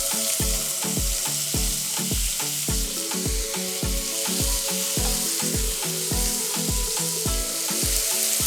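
Chunky tomatoes, ginger and a green chili sizzling in a pan of hot cumin-seeded oil for a vegetable makhani, a steady loud fry crackle with regular scraping stir strokes throughout.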